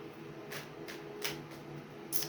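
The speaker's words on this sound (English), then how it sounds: "We're shuffling." A deck of cards being shuffled at a tarot-style reading session, soft quick riffling bursts repeating about five times, close and fairly quiet with no talking.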